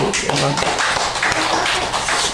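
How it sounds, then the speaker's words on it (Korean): A church congregation claps together, a dense, loud burst of hand claps with voices mixed in throughout. "박수를 한번"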